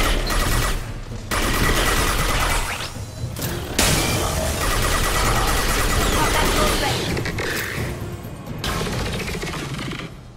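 Assault rifle gunfire in the video game Mass Effect 2 rattles in dense bursts amid combat crashes and impacts, while a person talks over the action.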